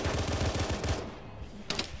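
Video game gunfire in a rapid machine-gun burst that rattles loudly for about a second, followed by quieter ambience and one more sharp crack near the end.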